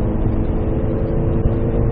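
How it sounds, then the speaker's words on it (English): The small four-cylinder engine of a Ford car hums steadily from inside the cabin as it builds speed on the road, a continuous mid-loud drone with no talking. "That gets a little 4-cylinder going."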